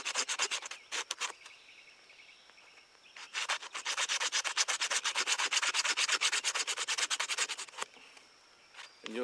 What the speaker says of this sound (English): you stick it in there and just sand those edges there